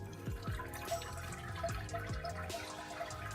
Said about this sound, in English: And just gently rinsing those grains through the top